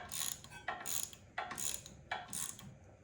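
Four quick bursts of ratchet clicking as a wrench tightens the mounting bolts on a 7-inch MotoCult motorcycle headlight, each burst a short run of crisp metallic ticks with brief pauses between, close and clear with no talking.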